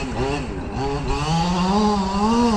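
Small gas two-stroke engine of a Losi 5T 3.0 large-scale RC truck revving and shifting pitch steadily, loud and close, with a buzzy, chainsaw-like drone throughout.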